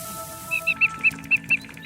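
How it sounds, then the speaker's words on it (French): Song thrush in a rainy garden setting, a series of about six short, bright, repeated call notes in a steady rhythm, fairly close, with other faint birdsong in the background. "Pas la grive musicienne."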